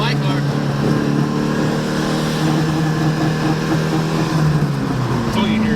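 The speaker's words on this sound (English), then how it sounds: "That's all you hear is the turbo." Turbocharged SR20-swapped Mazda FB RX7 under a pull, a steady loud broadband engine and turbo roar heard from inside the car, continuous for the whole stretch.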